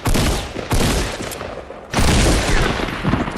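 Bursts of suppressed SCAR assault rifle fire in a video game, two long loud volleys of rapid shots separated by a brief lull, close and dense.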